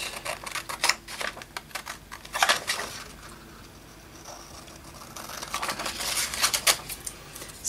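Scissors snip through paper in quick bursts of close, crisp clicks, pausing briefly midway before another run of cuts; no one talks.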